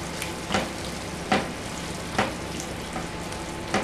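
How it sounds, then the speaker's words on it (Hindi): Mutton keema fries in a pan with tomato paste and chilli garlic sauce, a soft steady sizzle broken by regular scraping strokes of a spoon roughly every second, close and quiet without any talk. "साथ ही डाल देंगे चिली गार्लिक सॉस। मिक्स कर लेते हैं"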